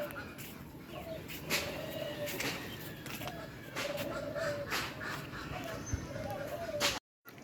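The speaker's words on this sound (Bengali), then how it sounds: "কত হাঁস মুরগি একসাথে হয়েছে" Ducks and chickens gather together, with repeated clucks and short squawks coming in bursts over a busy outdoor background, with voices faint beneath.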